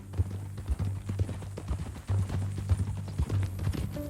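Horse hooves clip-clopping at a steady walking pace in Red Dead Redemption 2, close and distinct with a faint low background hum.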